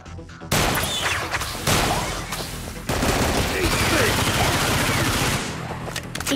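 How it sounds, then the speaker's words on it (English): Rapid firearm gunfire from the video game Gigantic X, with dense, close bursts of shots and booming impacts that rattle on almost without a break for several seconds. "Switch to your secondary firearm and eliminate all targets."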